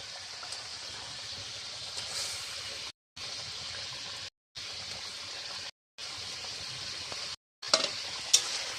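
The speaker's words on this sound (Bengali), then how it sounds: "মাছটা আমি মাছের ঝোলে আমি দিয়ে দিচ্ছি" Rui fish slid into a simmering mustard broth with a steady, moderate bubbling sizzle that breaks into short silent gaps, plus a couple of brief sharp clinks near the end.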